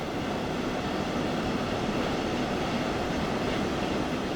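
A regional train on the RE18 Cottbus to Dresden line in Train Sim World 2, a low, steady rolling rumble with continuous wheel and track noise at moderate, unchanging level and no talk.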